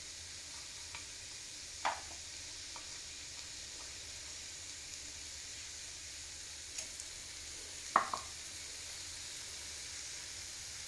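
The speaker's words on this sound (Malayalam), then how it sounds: "എന്നിട്ടത് കുറച്ച് നേരം ഒന്ന് ഇളക്കി കൊടുക്കണം. ആ എണ്ണയിൽ കിടന്നിട്ട് ഈ മാങ്ങ ഒന്ന് വാടി വരണം." Mango pieces with salt and turmeric sizzling steadily in hot oil for a mango pickle, a constant soft frying hiss with a few faint scraping stirs of a spoon against the pan.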